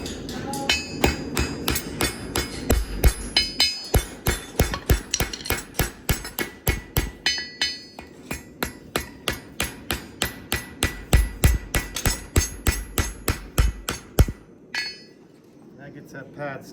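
Steady metallic hammer taps setting copper rivets in a horseshoe pad, dozens of close, sharp strikes in a quick even rhythm, pausing briefly before a final burst.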